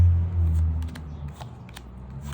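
Brief, close riffling of a Marseille-style spring tarot deck being shuffled, a soft papery flutter of cards lasting a couple of seconds.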